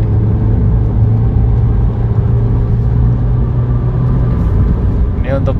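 A Ford Fiesta 1.5 with a dual-clutch gearbox driving on a toll road, heard from inside as a steady loud engine and road rumble, with someone talking over it.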